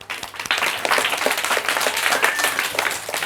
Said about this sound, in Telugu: వావ్, క్లాప్స్ కొట్టండి